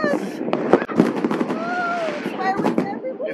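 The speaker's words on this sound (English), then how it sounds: "Ang advance naman ng fireworks ng mga kapitbahay." Neighbours set off New Year's Eve fireworks in Antipolo, Philippines: sharp cracks and pops mixed with whistling rockets sound moderately close, while people talk over the bangs.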